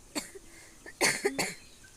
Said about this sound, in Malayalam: നോക്കണ്ട ഗൈസ്, ചുമയാണ് ഗൈസ്